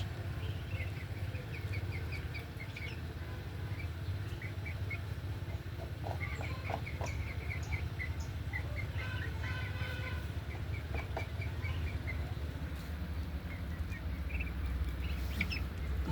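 Tiger breed chickens, about three months old, on a farm give faint, scattered clucks and chirps over a steady low background hum, with no voices.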